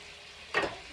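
Braciole, meatballs and sausages browning in a pan give off a brief, close burst of sizzling that swells for a moment over a quiet background.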